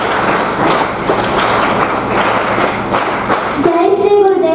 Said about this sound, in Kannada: ಒಂದ್ಸಲ ಜೋರಾದ ಚಪ್ಪಾಳೆ ಮೂಲಕ ಅವರಿಗೆ ಪ್ರೋತ್ಸಾಹಿಸ್ತೀವಿ